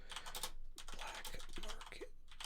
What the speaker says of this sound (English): So I'm typing it down,